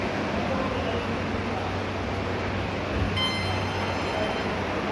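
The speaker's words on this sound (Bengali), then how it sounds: "ঢুকে পড়লাম মেট্রো স্টেশনে," Inside a metro station, a loud continuous rumble of a train and crowd ambience fills the space, with a faint tonal squeal late on.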